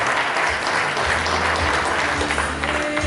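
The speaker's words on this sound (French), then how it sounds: "Et on applaudit encore, on applaudit encore." Sustained applause from an audience at a church anniversary gala, a dense, steady wash of many hands clapping close and loud for about three seconds, with no talk over it.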